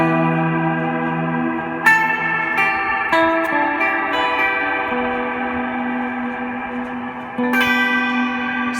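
Sustained guitar chords drenched in a haunting, long-tailed reverb with subtle vibrato from a Meris Mercury7 pedal, new notes blooming at intervals and washing into one another with no talking.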